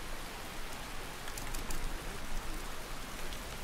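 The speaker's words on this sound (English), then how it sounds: "I'm gonna sit here and sell some books in the pouring rain." Pouring rain in the video game Skyrim, a steady hiss of rainfall on surfaces at moderate, even level throughout, with no voices over it.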